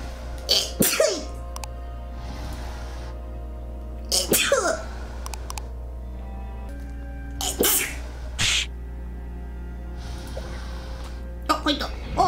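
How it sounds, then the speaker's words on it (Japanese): A game character in Papetura sneezes several times, sharp bursts spaced across the stretch over a steady low hum and soft ambient game music, with a person talking between them. "くしゃみすんじゃないの？ もしかして。"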